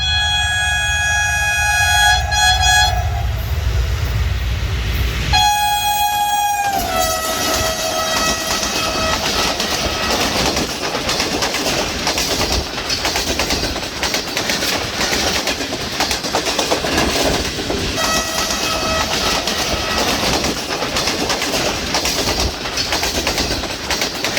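A train made up of Chinese coaches passes Malir station, opening with loud horn blasts, then a steady roaring rumble and clatter of wheels on rails, close by, with a further horn call later.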